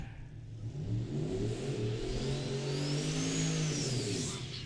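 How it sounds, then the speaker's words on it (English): A turbocharged 1979 Malibu drag car in the Pro Dial Your Own class launches and accelerates hard down the strip, a loud engine roar climbing steadily in pitch through the gears with a rising turbo whine. "the turbocharged 1979 Malibu"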